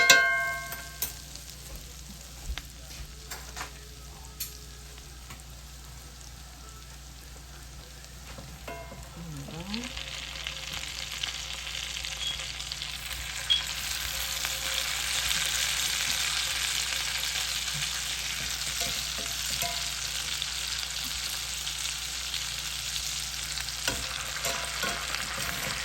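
Steaks hit a hot pan and settle into a steady, loud broadband sizzle that swells midway and holds, with occasional utensil clinks and stirring scrapes, no voices.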